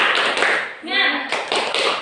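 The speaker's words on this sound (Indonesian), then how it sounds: "Kita coba tepuk satu, tepuk dua, tepuk tiga, tepuk semangat" A classroom of pupils claps along with their teacher in a rhythmic clapping chant, sharp bursts before and after a brief spoken call in the middle.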